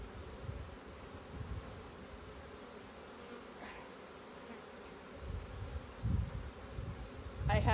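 Honeybees buzzing around an opened hive during an early March inspection, a steady faint hum with occasional louder passes of single bees near the microphone, outdoors with no talk.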